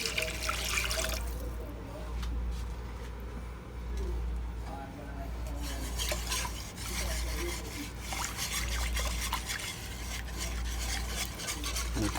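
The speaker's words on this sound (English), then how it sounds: "I'm going to continue whisking it," Whisk stirring water into a roux for Creole Cajun chicken stew, a steady close scraping and sloshing in the pot that runs continuously with a low background hum.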